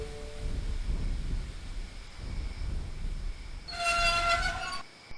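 Train engine rumbling as it moves, with low steady rolling and clanking, then a loud bright horn blast near the end that cuts off abruptly.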